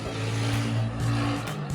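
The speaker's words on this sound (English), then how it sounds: "Sorry about the road noise, I forgot to close the window." Road traffic passes outside an open window, a steady low rumble of cars with a couple of brief swells as vehicles go by, heard indoors with no talking.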